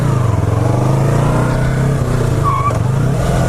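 A small 300 sport bike motorcycle engine running loud and close, a steady droning hum that holds a fairly even pitch with slight rises and dips in revs, no voices over it.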